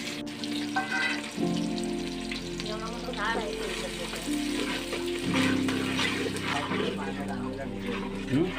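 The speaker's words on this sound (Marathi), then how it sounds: "फोडणी देते आई इकडं." In a village in Konkan, spices crackle in hot oil for a tempering over chopped onion, a steady close sizzle with scraping and stirring, and faint voices and household noise around the cooking.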